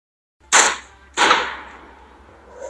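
Two sharp sniper rifle gunshots from a video game ring out about half a second apart, each loud with a long decaying tail, played alone with no talk.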